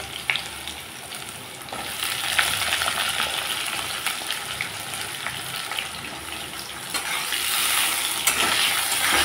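Potato pieces fry in hot oil in a pan with bay leaves and grated ginger, giving a continuous close sizzle broken by scraping stirs and light clinks of a utensil against the pan.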